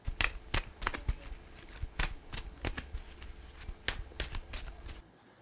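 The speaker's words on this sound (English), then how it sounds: "Now, I'm just going to keep shuffling." Playing cards being shuffled over and over, a rapid series of crisp riffling bursts close by, fading to quiet at the end.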